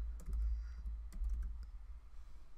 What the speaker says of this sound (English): you would just click in, type in button